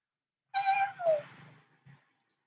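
A cat meows twice up close, a rising drawn-out call followed by a shorter second meow, with a faint low murmur trailing after in an otherwise quiet room.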